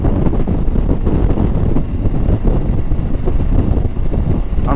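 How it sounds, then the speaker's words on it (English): Heavy wind buffeting a rider's helmet on an Aprilia Tuareg 660 motorcycle on a breezy day, a loud constant roar with gusty low rumble and faint engine drone underneath, no talk. "I'm surprised how much wind I'm getting on my helmet and my chest."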